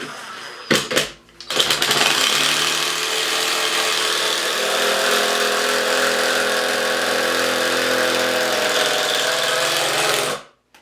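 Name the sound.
Ryobi brushless impact driver driving a screw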